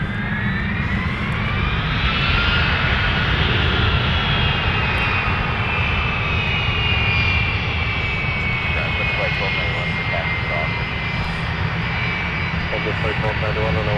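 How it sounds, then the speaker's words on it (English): A Boeing 757-300 jet taxis toward runway 17 at an airport, its engines producing a steady, loud whine and rumble with a rising high tone that holds through the whole span, with radio chatter under it. "we'll get the 757 300 taxiing to 17 for departure"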